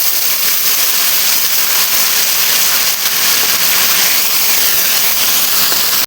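Panch phoron and other spices, such as ginger, cumin and coriander, sizzling steadily in hot oil while khichuri is cooked, a dense close hiss with crackle that holds for the whole stretch and has no talking over it.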